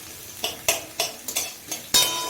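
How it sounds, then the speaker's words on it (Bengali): Chopped onion is stirred in hot oil in a frying pan, a string of about six distinct scraping strokes over a low background sizzle, fairly close and without speech. "তেলের মধ্যে ফার্স্টে যে একটা গোটা পেঁয়াজ কেটে রেখেছিলাম ওটা দিয়ে দেবো।"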